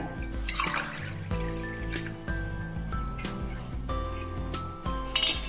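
Water, one and a half tumblers for laddu sugar syrup, pours and trickles into a vessel with light clinks of dishware, set against a steady background of music.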